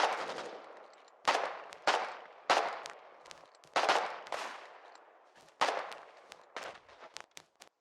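Battle gunfire and explosions in the war game Foxhole as Colonials throw bomb stones across an open road into a grove of trees: repeated sharp gunshot bursts and blasts, some loud and close, others quicker and fainter, with no talk.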